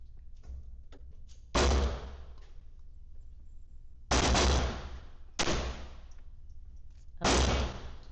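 Handgun shots fired with iron sights at a shooting range, four sharp loud cracks spaced irregularly a few seconds apart, each with a short decaying tail over a low steady background.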